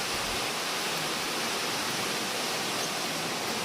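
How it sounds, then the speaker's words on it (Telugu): A waterfall roars steadily and loudly, a dense unbroken rush of water with no pauses. "సూపర్గా వస్తుంది వాటర్ ఫాల్స్"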